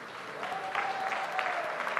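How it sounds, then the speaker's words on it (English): Audience applause at the 44th Ordinary SADC Summit of Heads of State and Government, a steady wash of clapping across a large hall, moderately distant and continuous with no talk over it. "It's a deserved round of applause."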